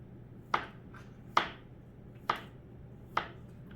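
A knife chops through potato on a board in four sharp, evenly spaced strikes, each a crisp close thud with a short fading tail over quiet room noise.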